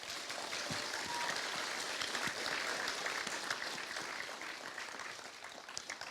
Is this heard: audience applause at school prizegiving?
yes